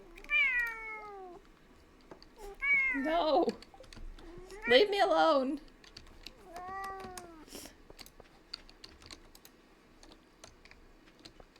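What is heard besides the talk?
pet cat screaming and meowing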